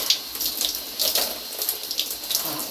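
Hot shower water running steadily, a hissy spray with small splashy bursts as it hits a body and the floor, close and fairly loud, with no voices.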